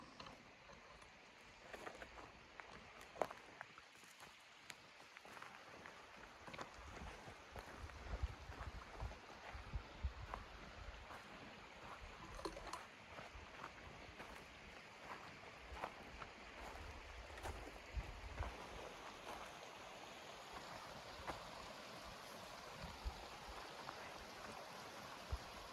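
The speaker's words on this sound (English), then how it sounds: "That water is really running." A rushing stream flows beside a forest hiking trail, its steady broadband wash of water continuous and fairly close throughout, with no talk over it.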